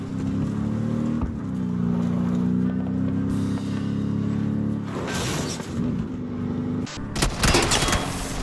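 Gunfire in a battle royale video game, dense bursts of shots and crackling blasts in the second half over a steady droning vehicle engine hum, loud and close.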